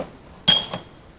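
New wheel bolts for a Saab 9-3 Turbo X wheel spacer install clink together once, a sharp close metallic chink followed by a softer second tap, then quiet.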